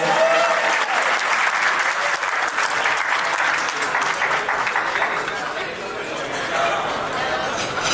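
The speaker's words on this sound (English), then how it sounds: "Huge round of applause once again for Jakpreet Bajwa." An audience at a Republic Day banquet hall event applauds a performer, sustained loud clapping for the whole stretch with crowd chatter mixed in.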